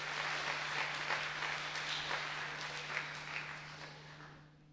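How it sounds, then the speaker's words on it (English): A small audience at a talk on silly things to do with LEGO breaks into a steady wash of applause that holds evenly and then fades away toward the end, with a low steady hum underneath. "And a big cheer for the glasses"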